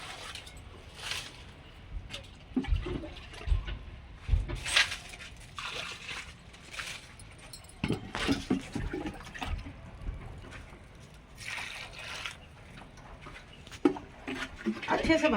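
Water is poured into a large pot of soil to soak it before cluster bean seeds are sown, giving intermittent splashing and gurgling bursts. A person talks throughout, nearby and fairly quiet.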